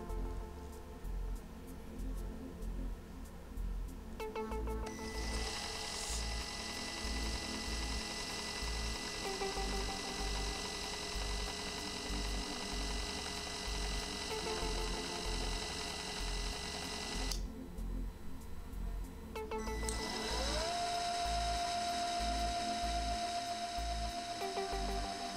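A DC motor linear actuator runs a homing cycle with a steady mechanical whine and a rhythmic low pulsing. A brief pause and pitch shifts mark direction changes before it keeps running, loud and close, with no talk.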